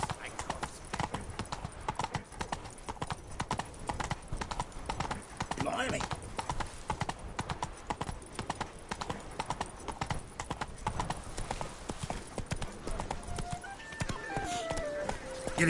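Horse hooves trotting in The Witcher 3: Wild Hunt on PS4, a steady, close clip-clop rhythm that runs throughout, with someone talking over it.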